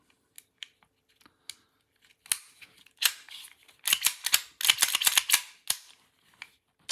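Sharp metallic clicks and snaps, some single and some in quick bursts, as the slide of an ICS Korth PRS gas blowback airsoft pistol is cycled back and forth, close and fairly crisp.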